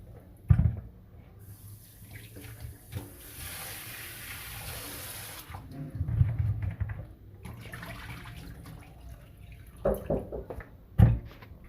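Passion fruits being washed in water, with splashing, sloshing and tap-like running water, occasional louder knocks and plunges from handling the fruit, close and without talk.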